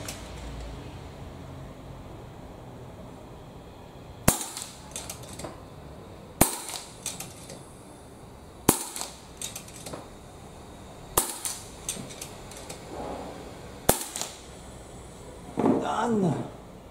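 An untuned FX Maverick Sniper .22 air rifle firing 15.89-grain pellets at chalk 50 yards away gives five sharp, close cracks about two seconds apart, each followed by a brief mechanical clatter, with a short vocal exclamation at the end.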